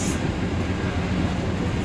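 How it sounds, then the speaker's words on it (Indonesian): Rumbling interior of the Dhoho economy-class passenger train running on rails near Blitar, a steady loud low roar with continuous rattling and no distinct clacks, heard from inside the carriage. "Sekarang kita coba rasakan guncangan di kereta ekonomi ini."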